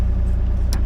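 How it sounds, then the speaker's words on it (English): A brand new Kubota KX040 excavator engine runs with a steady low rumble and a pulsing throb, close up, and a brief faint rattle near the end. "I am sitting in a brand new KX040 Kubota that the customer owns"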